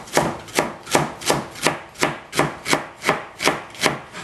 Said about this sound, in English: I'm just cut the romaine in half. I'm just gonna shred it up.